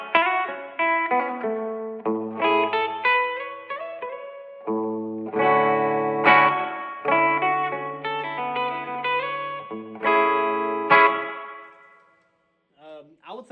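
Guitar played through a reverb pedal on its spring setting: a melodic run of clean chords and single notes, each trailed by a washy spring-reverb tail, ending in a short gap and a few quick plucked notes.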